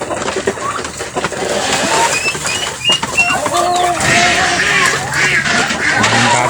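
Ducks on a farm calling amid a busy mix of bird noise, with quacks and coos rising over steady ambient sound, fairly close.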